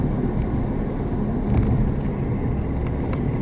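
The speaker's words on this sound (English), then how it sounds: "coming to the E30 that I'm driving here, this is such a lovely car to drive" BMW E30 3 Series being driven, a steady low engine and road rumble from inside the car with a few faint clicks and ticks, no talking.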